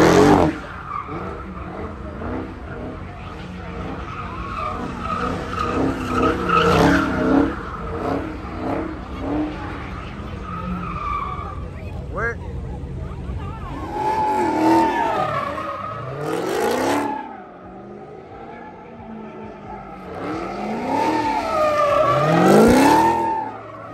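Cars sliding at a Memphis street slide show, tires squealing in long skids while engines rev hard, loud and sustained with surging bursts and a brief lull partway through.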